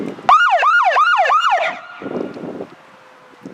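A police siren whoops loudly in four quick rising-and-falling cycles, then cuts off, leaving a faint low engine hum.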